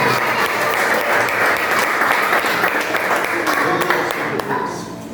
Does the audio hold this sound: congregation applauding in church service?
yes